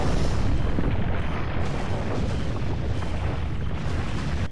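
A single loud, booming Magnum revolver shot from Resident Evil 4, right up close, its heavy rumble filling the clip and not fading away.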